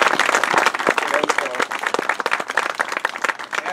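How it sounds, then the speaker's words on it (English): Crowd applause outdoors at the Knowlton Park opening, lively uneven clapping with some cheering voices and chatter mixed in, close and loud. "So let's give a round of applause."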